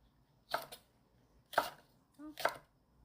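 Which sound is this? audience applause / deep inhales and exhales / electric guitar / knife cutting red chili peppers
knife cutting red chili peppers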